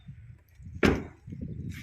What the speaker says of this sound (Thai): เสียงปิดประตูกับเสียงแน่นๆ